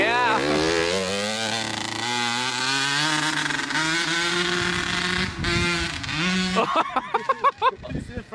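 Dirt bike engine revving hard close by, a loud rising buzzing whine that climbs and holds, then breaks into short choppy throttle blips, with people talking and shouting over it.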